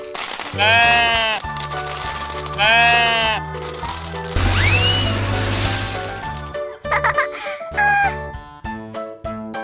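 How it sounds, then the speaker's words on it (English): Sheep bleat loudly and close, several wavering cries in bursts separated by short pauses, with sloshing and other animal-like calls mixed in toward the end. "Sheep."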